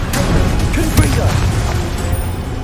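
A Confringo spell explodes in Hogwarts Legacy, a dull booming crash partly masked by voices and busy battle noise.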